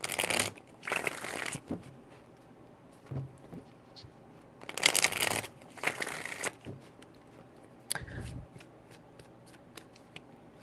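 Tarot cards are shuffled in three loud riffling bursts, each lasting about a second, with softer handling rustles and taps between them.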